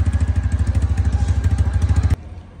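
A TVS motorcycle engine thumps in a fast, even pulsing rhythm up close, then cuts off abruptly as the bike pulls away.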